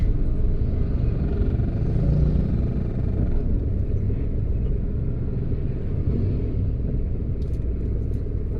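Road traffic at a busy crossroad near a city hall, a continuous low rumbling wash of car and motorcycle engines with no pauses, steady and moderately loud throughout.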